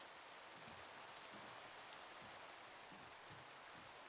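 Steady rainfall in the Minecraft video game, an even wash of soft hissing drops with faint low thumps scattered through, no talk.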